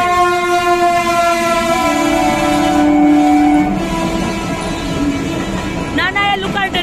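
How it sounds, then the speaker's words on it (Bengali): A non-local train rolls past a lowered level-crossing gate, its horn sounding a long, loud tone over a heavy rumble and clatter of wagons. A brief voice is heard near the end. "আবারও গেট পড়েছে, দেখো ট্রেন যাচ্ছে।"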